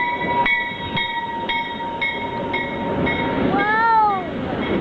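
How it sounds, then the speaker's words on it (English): A train rolling past close by, its wheels clacking in a steady rhythm as they cross rail joints, while a steady high tone runs throughout and a rising-falling horn-like whine sounds near the end. "Alright, let's get on the train."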